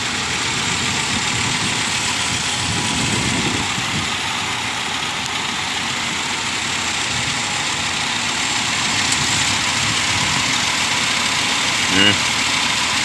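A used car on a back lot idles with a steady low engine rumble throughout, loud and close, with faint muffled voices in the background.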